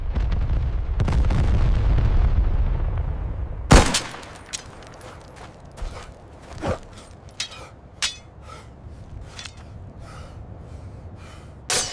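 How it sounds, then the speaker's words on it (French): A loud rumbling roar gives way to a sharp French cannon blast pounding rocks, followed by scattered rifle shots and bangs at uneven intervals. "Les premiers canons français tonnent, pulvérisant les rochers de Baoura."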